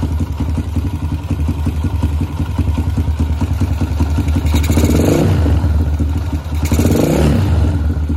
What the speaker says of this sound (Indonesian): Untuk karbunya langsamnya enak banget ya, seperti ini ya.